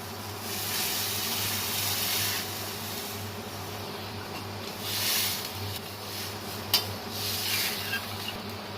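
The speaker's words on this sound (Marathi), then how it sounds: "आता भांड्यातून पाणी टाकत आहे" Water poured from a pot into a hot egg curry masala of coriander powder, chilli, turmeric and garam masala makes a continuous close hiss and steamy sizzle, with soft scraping and a brief clink partway through.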